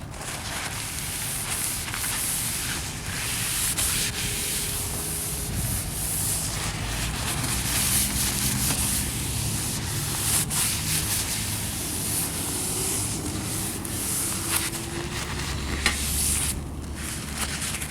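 A steady, soft rubbing and scrubbing sound continues throughout, a paper towel wiping back and forth across a car headlight treated with DEET close by.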